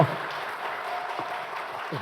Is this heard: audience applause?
yes